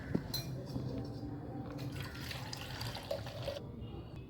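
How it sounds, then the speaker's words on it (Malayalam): Mint lemon water strained through a sieve into a vessel, with a continuous pouring trickle, a small clink near the start and splashing that thins out toward the end. "ഇനി നല്ലതുപോലെ ഒന്ന് അരിച്ചെടുക്കാം നമുക്ക്"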